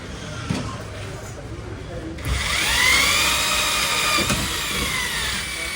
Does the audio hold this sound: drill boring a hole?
yes